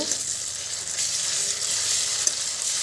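Ginger garlic paste sizzles steadily in a hot pan while it is stir-fried for a red amaranth dish. A close, even hiss carries through, with one brief utensil tap near the end.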